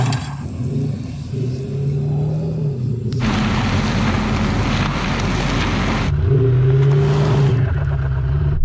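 A van engine strains hard during a tug-of-war, revving and droning loudly as it fights for traction, with gusty wind buffeting the microphone and the pitch rising and falling.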